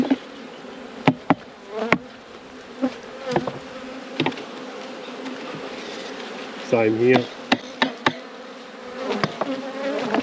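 Honeybees buzzing steadily around hive frames during an inspection, a close continuous hum broken by sharp knocks and clicks of frames being handled, with a person speaking briefly.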